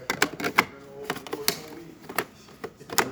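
A Delonghi La Specialista espresso machine's burr lever is worked by hand, giving a handful of sharp, close plastic clicks and snaps at irregular intervals in a quiet room.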